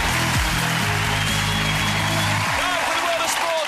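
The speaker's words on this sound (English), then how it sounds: "please give them a massive round of applause as they take to their seats." A studio audience on a televised competition show applauds as the judges take their seats, dense steady clapping under loud music that cuts off partway through, leaving the applause.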